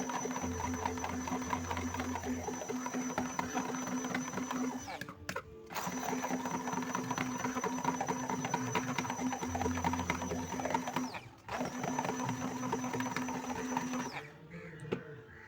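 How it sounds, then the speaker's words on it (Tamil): Blender whirring steadily while mixing a homemade niacinamide face moisturizer, a fairly faint continuous motor hum with two brief stops, running under a person talking. "பிளெண்டராலே மிக்ஸ் பண்ணுங்க."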